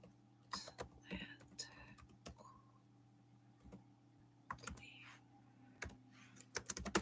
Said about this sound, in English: I'm going to type it in the chat.